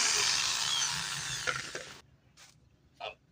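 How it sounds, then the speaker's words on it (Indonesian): An electric drill, apparently plugged into a homemade welder built from a microwave oven transformer, whirs loudly and close for about two seconds, then cuts out, leaving brief faint clicks and rustles. "Bor masih hidup ya, masih sama ya"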